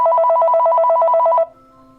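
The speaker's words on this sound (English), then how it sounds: "what it sounds like when the phone rings" A phone gives a rapid warbling electronic ring, loud and close, for about a second and a half. It stops abruptly and a faint steady tone hangs after it.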